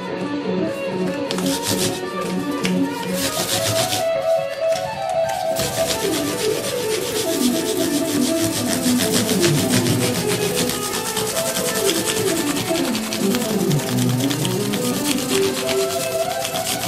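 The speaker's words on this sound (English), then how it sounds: "Now we're going to go with 1500 sandpaper" Steady, continuous rubbing as 1500-grit sandpaper is worked back and forth over steel guitar frets, close and fairly loud, with no talking.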